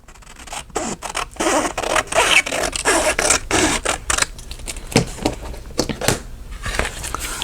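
Paper circles being punched out with 1-inch and 1.5-inch circle punches, a steady run of close crisp snaps, clicks and scraping paper rustles, alone with no talk.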